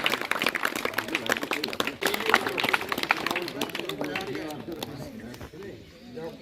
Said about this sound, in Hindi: जोरदार तालियां भी।